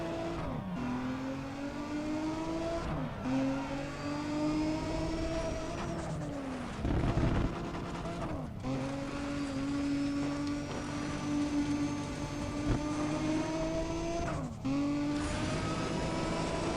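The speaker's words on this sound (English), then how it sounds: "I'm just gonna drive to the finish" A racing car in Need for Speed drives toward the finish, its engine droning steadily and loud. The pitch climbs through repeated gear shifts, each upshift marked by a brief dip before it rises again.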